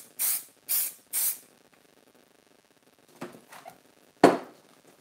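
Three quick hissing bursts from an aerosol can of fixative spray over a chalk pastel sketch, then a pause, followed by softer bursts and one sharper final spritz.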